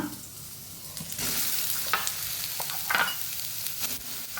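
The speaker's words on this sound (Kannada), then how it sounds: "ಇದನ್ನು ಈಗ ಫ್ರೈ ಮಾಡಿದರೆ ಸಾಕ್ತದೆ. ಈ ಸೋಯಾವನ್ನು ಇದರಲ್ಲಿ ಹಾಕ್ಕೊಳ್ಳೋಣ" Soya chunks frying and being stirred in a pan, a soft crackling sizzle broken by a few scraping strokes, fairly quiet and close.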